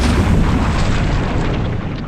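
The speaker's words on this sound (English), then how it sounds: "The steam explosion is so powerful, it launches the 13-ton reactor into the air like the lid of a boiling kettle." A massive steam explosion in a nuclear reactor, the blast that hurls the 13-ton reactor lid into the air, is heard as a loud, sustained deep rumbling boom filling the whole clip, with no voices.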